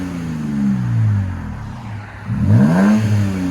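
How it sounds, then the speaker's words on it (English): A 3.5-liter V6 in a Toyota Tacoma TRD Pro 4x4 fitted with a Borla Pro-XS single exhaust revs twice, a deep steady idle rising into a strong throaty rev near the end, loud and close. "Toyota Tacoma 4x4 TRD edition. V6."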